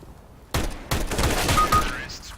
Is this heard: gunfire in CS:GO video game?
yes